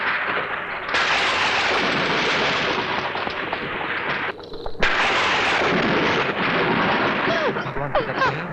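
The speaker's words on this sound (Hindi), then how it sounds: "लगता है भयंकर तूफान आने वाला है।" Heavy thunder rolling continuously as a fierce storm approaches in a film scene, loud and booming with a brief lull before another deep crash.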